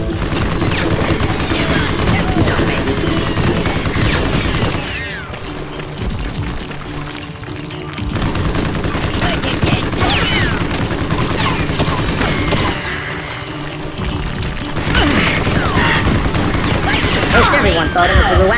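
A Gatling gun rattles in sustained bursts of rapid gunfire during a Call of Juarez: Gunslinger shootout, loud and dense, easing briefly before resuming with booming impacts and crashes over a busy game soundtrack.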